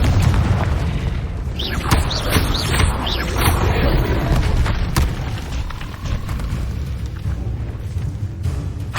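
Confringo fire spell blasts in Hogwarts Legacy, a steady run of loud booming explosions with crackling bursts and whooshes layered over rumbling combat noise, continuous throughout.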